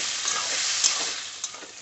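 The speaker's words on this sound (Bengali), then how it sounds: "আমি ওই ভাজা ডালটা ভিজিয়ে রেখে লাউয়ের সঙ্গে নেড়ে নিচ্ছি।" Soaked fried lentils being stirred with bottle gourd in a pan for a home-style vegetarian lau dal, a steady close sizzle with faint scraping of the spoon, no talking.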